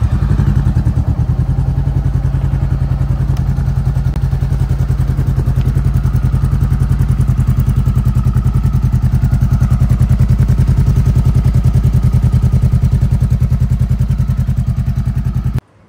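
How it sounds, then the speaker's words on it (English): A Honda CBR500R sports bike with an SC Project aftermarket exhaust idles close by, its deep, steady throb pulsing rapidly and evenly throughout before cutting off abruptly at the end. "The bike has a SC Project exhaust that gives the bike the perfect tone,"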